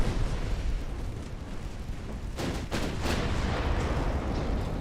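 Battleship secondary guns firing in the naval game Ultimate Admiral Dreadnoughts, a steady rumbling barrage of heavy booms with a few sharper reports standing out midway, loud and continuous.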